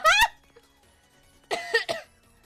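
A person coughs up close, one harsh burst at the start and then a rough double cough after a short silence, with no talking.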